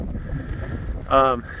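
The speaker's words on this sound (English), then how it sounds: "I'm sorry about the wind." Strong southerly wind buffets the microphone outdoors near cattle with hay put out, a steady low rumble throughout with a brief tonal harmonic burst near the end.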